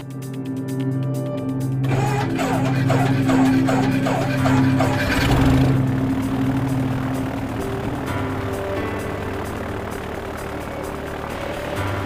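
A small propeller airplane drones steadily during stall and spin training, its engine note loud and close, then shifting and easing into a rougher, airier hum as the stall develops.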